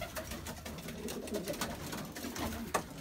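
Pigeons coo in a breeding loft, several soft, rolling calls overlapping at moderate distance amid faint rustling and a brief knock.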